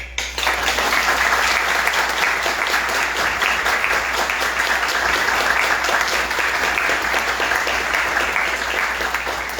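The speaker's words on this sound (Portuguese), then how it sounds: "Quem merece uma salva de palmas são vocês, por favor." Sustained applause fills a municipal council chamber during a session, many hands clapping in a dense, even roar that stays loud for the whole stretch with a low hum underneath.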